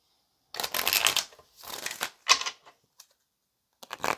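Playing cards being shuffled in a few quick riffling bursts, close and fairly loud, with short pauses and a couple of faint clicks between them, no talking.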